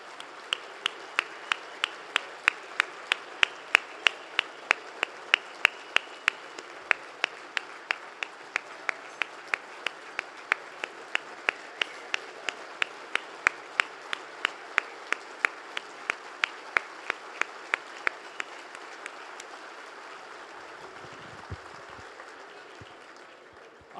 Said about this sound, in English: If you would all stand for a round of applause.